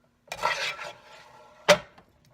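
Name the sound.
ground beef being put in a pan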